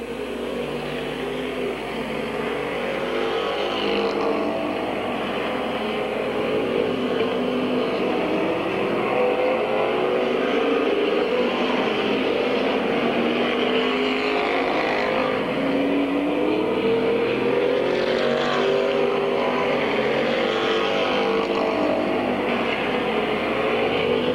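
Race cars lap a short track at Midvale Speedway in 1999, their engines making a steady, continuous roar that rises and falls as the field circles. The sound comes from mid-distance with no breaks.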